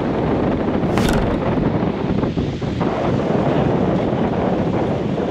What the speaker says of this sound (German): aber es ist immer noch sehr windig.